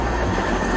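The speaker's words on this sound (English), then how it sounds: "6 patrol car was just hit by a train" Train rolling by just after striking a police patrol car with a suspect inside, a loud, steady, dense rumble with constant roar and no distinct clacks, running unbroken through the short moment without voices.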